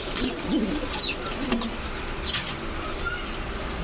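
Red checker and other large racer pigeons coo softly in a few low, brief calls near the start, with chirps and wing rustle in a steady noisy loft background.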